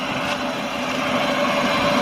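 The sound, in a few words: Chevrolet Aveo car engine revving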